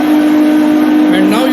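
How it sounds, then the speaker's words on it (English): A machine spindle motor runs at higher RPM, a loud steady tonal whine with a constant pitch and a faint rising overtone near the end. "we are running the spindle at higher RPM so that more current will be taken by the motor"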